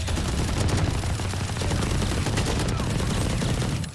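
Dense gunfire in the video game Valorant, with rapid overlapping shots forming a continuous loud burst of firing.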